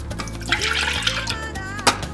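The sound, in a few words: pouring nut milk into a Starbucks mug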